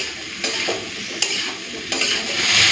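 Vegetables fry in a pan while being stirred, a close, loud sizzle with scraping strokes and a few utensil knocks against the pan, with no one talking.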